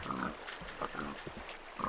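Pigs oink in the Minecraft video game, several short nasal grunts in quick succession at close range over a soft background hum.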